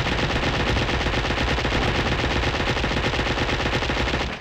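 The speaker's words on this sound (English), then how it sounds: "Those SMGs are terrible, they've got no range on them at all." Submachine gun firing in Duke Nukem 64, a rapid, evenly spaced stream of loud shots that keeps going without pause for several seconds.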